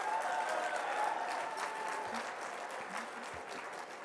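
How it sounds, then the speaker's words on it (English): A dinner crowd at a state Democratic Party event gives a sustained round of applause, with full, even clapping from many hands throughout and faint murmurs underneath. "Give our chair a round of applause."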